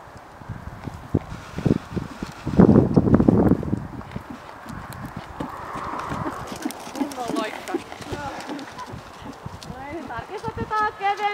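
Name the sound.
horse hooves clip-clopping during riding lesson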